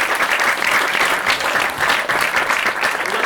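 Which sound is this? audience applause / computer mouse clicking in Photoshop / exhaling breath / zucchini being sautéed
audience applause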